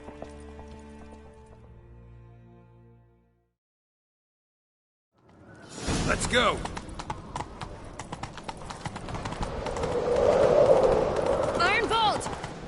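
Quick hoofbeats of a galloping horse in a video game, close and steady, with a brief shout over them, after a short stretch of music and a moment of silence.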